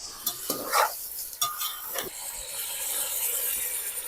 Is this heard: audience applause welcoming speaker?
no